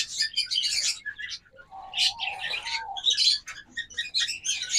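A pair of red-headed lutino opaline red-eye pet birds gives quick, high chirps and short squawky calls in bursts, close by and fairly loud, with no talking.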